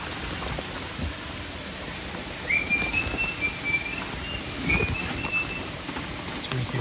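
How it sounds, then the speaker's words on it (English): A small bird chirps in the background, two thin whistled phrases some seconds apart, faint against a hissy room ambience with occasional soft knocks. "Tweety bird in the background."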